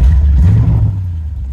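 Deep low rumble of a 1937 Ford Phaeton Model 78 flathead engine, loud and close, with a brief rev near the start before it settles into a steady throaty idle.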